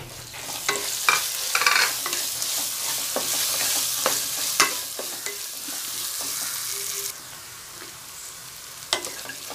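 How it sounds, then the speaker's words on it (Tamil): Grated coconut stir-fried in a pan for Tamil coconut rice, with a steady sizzle broken by repeated scraping stirs of a spoon, close and clear with no talking. "இதில் வந்து நம்ம இப்போ துருவி வச்சுருக்க தேங்காயை இதில் சேர்த்துக்கலாம்."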